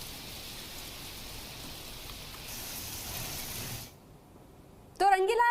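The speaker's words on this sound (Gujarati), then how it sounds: "વરસાદ છે તે વરસી રહ્યો છે" Steady rain falls over rural Talala Gir, Gujarat, hissing for about four seconds, then cuts off abruptly, followed by a short burst of a brighter, tonal sound.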